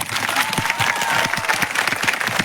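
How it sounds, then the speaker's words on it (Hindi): Crowd at a protest rally claps together in a steady burst of applause, loud and close, with a few voices rising faintly through the clapping. "यदि आपको मेरा प्रस्ताव पास है तो दोनों हाथ खड़ा करके जो है ताली बजा देना।"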